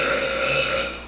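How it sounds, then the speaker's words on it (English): A single long, loud burp rolls on for about a second, close and steady with no talking over it, from someone who has just eaten dinner. "Why are you burping so..."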